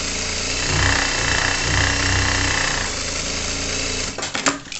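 Sewing machine stitching the lining of a children's backpack, a steady fast mechanical whir running near and loud for several seconds before stopping with a few clicks and rattles.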